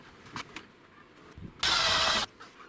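A Ferrari engine cranks over briefly with the plugs out for a cylinder compression test, a single loud, even burst of starter whirring lasting under a second after a few faint clicks.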